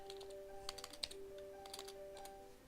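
Quick bursts of typing on a computer keyboard, close and fairly quiet, with clustered key clicks over a steady electronic hum and no talking.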